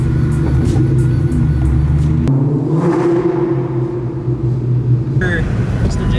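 Ford Mustang 5.0 V8 engines at a car meet, a loud steady low rumble that dips and swells, with people talking over it.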